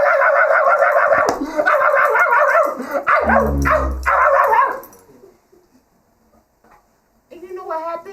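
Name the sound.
voice imitating a ferocious dog bark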